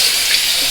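Cold water running steadily from a tap during a shave with a RazoRock three-piece razor, a close, loud, even rush filling the whole moment with no pauses.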